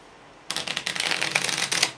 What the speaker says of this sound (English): basically just a simple riffle shuffle with a little bridge at the end